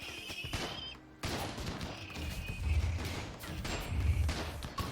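Grenades fired during a colony raid in a video game, a dense flurry of repeated bursts and blasts with deep thumps, moderately loud.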